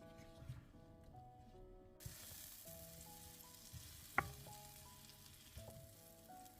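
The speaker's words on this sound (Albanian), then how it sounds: "vazhdojmë tani që t'i forgojmë në gjalp këpurdhat për 2-3 minuta" Fresh sliced mushrooms frying in melted butter in a pan, a steady soft sizzle with occasional light clicks and one sharp utensil knock, faint background hum, no talking.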